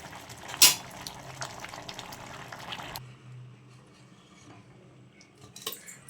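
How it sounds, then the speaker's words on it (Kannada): A pressure cooker lid is shut over boiling rice for mushroom pulao, giving one sharp metallic clack near the start. Soft bubbling and light kitchen clatter follow, fading to a quiet simmer. "ನೋಡಿ ಇವಾಗ ಮುಚ್ಚಲ ಮುಚ್ಚಿದ್ದೀನಿ ಮತ್ತು ಸಿಮ್ಮಲ್ಲಿ ಇಕ್ಕಿದ್ದೀನಿ"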